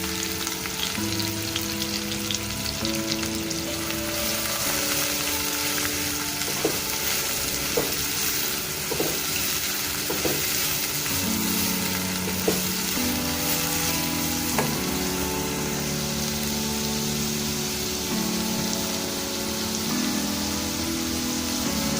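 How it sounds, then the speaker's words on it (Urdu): Carrots and capsicum sizzle in hot oil for a vegetable kofta spaghetti, a steady close crackle lasting throughout with occasional sharp clicks of stirring and no voices. "یہ جو ہماری گاجر اور شملہ مرچ ہے اس کو ہم ڈالتے ہیں۔ اور اسے ہلکا سا فرائی کریں گے۔"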